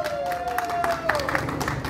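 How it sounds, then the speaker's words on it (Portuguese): Audience clapping for an honoree at a romantic reconciliation surprise event, steady crowd applause with a sustained whistle-like tone gliding across it and bits of voices mixed in. "pode bater palmas, que a nossa homenageada merece e merece mesmo"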